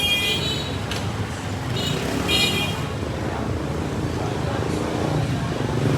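Busy street traffic in Hanoi's Old Quarter, a steady dense roar of cars and motorbikes close by with occasional horn toots on top, heard while walking among the vehicles.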